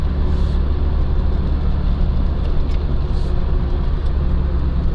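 A five-year-old UAZ Patriot drives along steadily, its engine drone and loud tyre roar filling the cabin in a constant, dense rumble with no one speaking.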